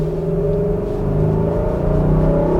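A 2018 Infiniti QX80 engine revs loudly and close, a deep steady rumble with rising harmonic tones that swell and build in intensity over a few seconds, with no voices.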